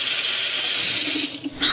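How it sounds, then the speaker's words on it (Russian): Tap water runs steadily into a cup in a sink, a broad close hiss that thins and changes near the end as the cup fills, with no voices. "паренек налил воды в чашку"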